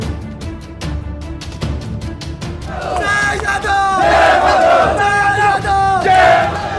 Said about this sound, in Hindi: प्लाजा की तरफ बढ़ती हुई ये भीड़ भी आपको नजर आ रही होगी।